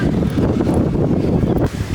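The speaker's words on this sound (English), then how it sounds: "That's how windy it is." Strong wind in Rhodes buffets the microphone in heavy, rumbling gusts, loud and continuous with no clear voices.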